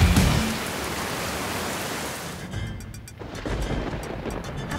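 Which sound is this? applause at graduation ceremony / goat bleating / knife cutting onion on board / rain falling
rain falling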